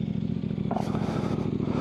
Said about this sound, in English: This one has the Leo Vince slip-on exhaust.